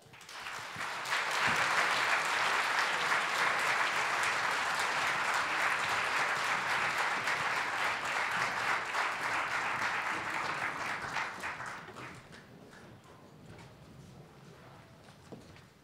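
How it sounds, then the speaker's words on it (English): A concert audience gives a warm round of applause at a live anniversary celebration event, a full, steady wash of clapping that swells quickly, holds for about ten seconds, then thins out. "Please give them a warm round of applause"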